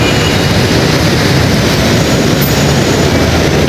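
An LRT Line 2 elevated train in Metro Manila rumbles past, a loud, continuous broadband roar holding steady throughout with no voices.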